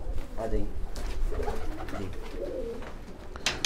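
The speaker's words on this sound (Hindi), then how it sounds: "ये देखिए, ये सब बीमार कबूतर हैं।" Sick pigeons cooing inside a loft, soft low coos repeating close by while someone talks over them.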